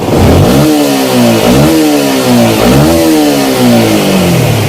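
A repaired Yamaha M-Slaz motorcycle engine, its ECU reset and charging system replaced, revs hard in repeated rising surges up toward ten thousand rpm, close and loud with no talk.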